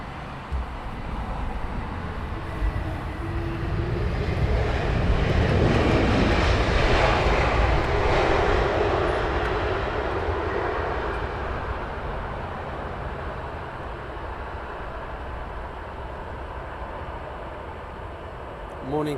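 A Lufthansa airliner arrives on runway 27R at Heathrow, its jet roar building to a broad peak as it passes close by, then trailing off into a long fading rumble, with a voice heard faintly beneath.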